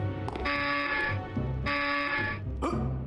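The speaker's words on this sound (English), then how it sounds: "That was like a game show wrong answer buzzer." Repeated harsh electronic buzzer tones from the video game Unepic, three loud flat blasts in a row, each lasting under a second with short gaps between.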